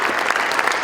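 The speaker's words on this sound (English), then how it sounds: "keep clapping, keep clapping" Applause from a gathered crowd at a church fundraising event, dense, steady clapping filling the whole short moment at close range.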